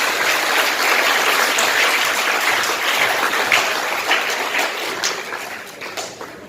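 Loud, steady applause from an audience at a school event honouring Muslim students in a Shiv Sena MLA's presence, a dense sustained wash of clapping that thins slightly toward the end.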